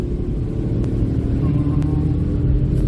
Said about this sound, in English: Right, accelerate up this hill